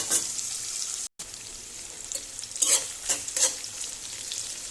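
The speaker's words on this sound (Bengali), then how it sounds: "শুটকিটা একটু পেঁয়াজের সাথে একটু ভাজা ভাজা হোক।" Dried fish fries with onion in a pan, a steady close sizzle with a brief dropout early on and a few louder bursts of stirring toward the end.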